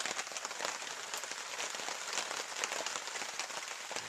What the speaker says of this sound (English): I'm just sipping coffee and listening to the rain out there.